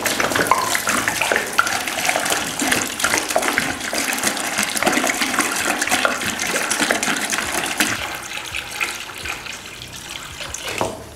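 Seven liters of mineral water poured steadily into a container for making a product, a continuous splashing, gushing rush that stays loud and close throughout with no talk over it.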